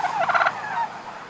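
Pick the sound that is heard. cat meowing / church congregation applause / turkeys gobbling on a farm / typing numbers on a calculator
turkeys gobbling on a farm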